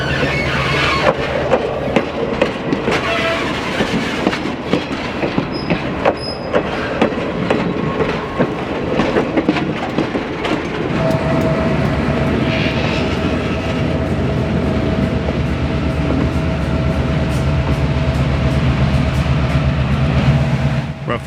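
A Mount Hood Railroad train heads south along its line with a loud, continuous rolling rumble and steady wheel clatter, and a faint high squeal and hum rise partway through.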